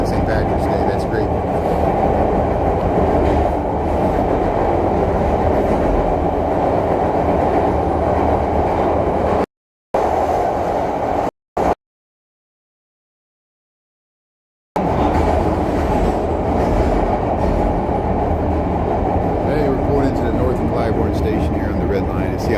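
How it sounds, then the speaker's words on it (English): A Chicago Red Line train pulls into the station with a loud, continuous rumbling roar and rail clatter, close by, broken by a brief silent gap partway through. "see how loud the train gets"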